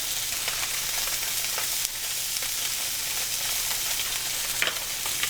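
Salmon fillets sautéing over high heat in a pan, a dense steady sizzle and crackle close by with occasional sharper pops, no voices.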